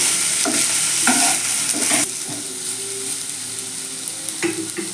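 Pumpkin stalks and potatoes being stirred with salt in a pan, with loud scraping spatula strokes over a frying sizzle for the first couple of seconds, then a softer, steady sizzle.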